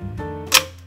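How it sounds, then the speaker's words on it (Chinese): A Nikon F film camera fires its shutter once, a single crisp, close mechanical click after a short quiet lead-in. "激发快门。"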